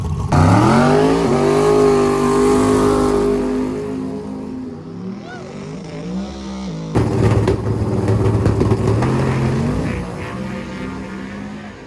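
A drag race car makes a pass at Drag Week 2023. A loud engine drones and revs with a shifting pitch, then a harsher, louder roar kicks in halfway as the car launches, and a voice talks faintly underneath.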